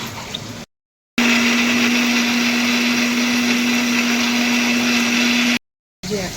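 An electric blender grinds ginger, garlic, tomato and onion into a paste, a loud steady whirring hum that runs unbroken for several seconds after a short pause, with a brief cut-off at the end.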